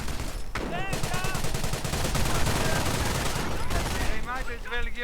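Light machine gun fire in the strategy game Company of Heroes, with British squads firing dense rapid bursts throughout and a commentator talking over the battle.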